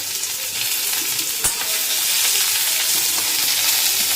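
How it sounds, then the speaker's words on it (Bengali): A small amount of onion frying in a hot pan, a steady close sizzle and hiss with a brief stirring clink partway through, no voices. "জাস্ট অল্প করে একটুখানি পেঁয়াজ দিয়ে ভাজবো"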